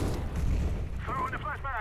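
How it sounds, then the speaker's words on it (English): A flashbang grenade bursts in a Counter-Strike match at the Boston Major, a dull, loud muffled boom filling the first second before a voice talks over the fading rumble. "I throw the flashbang."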